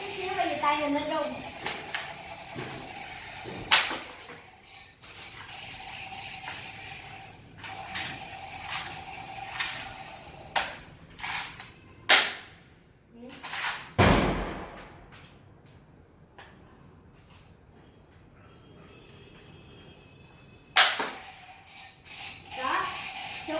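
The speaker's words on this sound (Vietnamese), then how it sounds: "Đó, súng nó bắn vậy đó." A toy shotgun fires a handful of sharp, loud pops spaced irregularly, each one short and snappy, between stretches of quieter handling noise and someone talking nearby.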